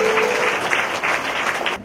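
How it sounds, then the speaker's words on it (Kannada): A church congregation at a Sunday service claps loudly together, a dense sustained burst of applause filling the room for under two seconds before cutting off. "ಅವರಿಗೆ ಜೋರಾಗಿ ಚಪ್ಪಾಳೆ ತಟ್ಟ ದೇವರನ್ನ ಬರಮಾಡೋಣ"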